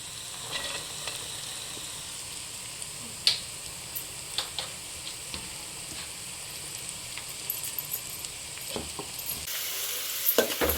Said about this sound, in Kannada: ಈಗ ಇದು ತೊಳೆದು ಸಣ್ಣ ಕಟ್ ಮಾಡಿ ಹಾಕ್ಕೊಂಡಿರೋ ತರಕಾರಿಗಳನ್ನ ಚೆನ್ನಾಗಿ ಮಿಕ್ಸ್ ಮಾಡ್ಕೋಬೇಕು